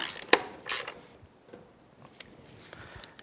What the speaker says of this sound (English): Get our 12 millimeter bolts back in place. those snug down.